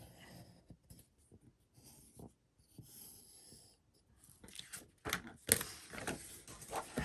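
A pencil traces around a paper pattern, giving soft faint scratching, and then scissors cut it out with louder, denser snips toward the end. The work is made for a boombox-shaped craft pocket, and no one speaks.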